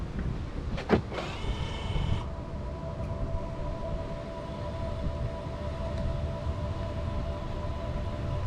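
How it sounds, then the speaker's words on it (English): A low, steady electronic hum with a faint tonal whine from a Chevy Bolt's pedestrian warning, after a brief mechanical whir and clunk at the start. "if you put the vehicle in reverse, you hear the noise more at the back of the car"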